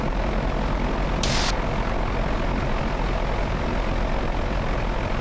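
A light aircraft's piston engine runs steadily at about 1200 rpm just after start-up, a loud continuous propeller drone filling the cabin with no break.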